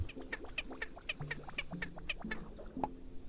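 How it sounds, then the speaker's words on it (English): A bird in the video game Wanderstop clucks repeatedly in short, chirpy bursts, fairly close and steady over a low background tone, with no talk. "I hear the bird coming. The bird is coming."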